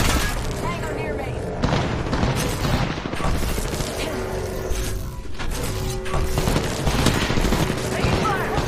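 Gunfire and explosions in the video game Apex Legends: continuous rattling shots and booming impacts layered throughout, loud and busy, with voices talking over the battle.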